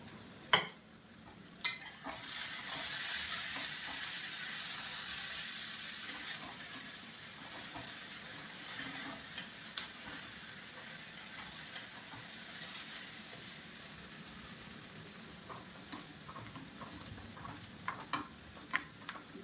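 Onion tempering for dal sizzles and fries steadily in a pan, a continuous hiss with scattered sharp pops and ticks throughout, no voices.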